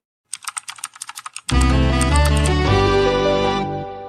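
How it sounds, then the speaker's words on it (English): Quick keystrokes clatter on a computer keyboard for about a second, crisp and close, before a loud sustained musical sting cuts in and takes over. "Who's that typing in the comments?"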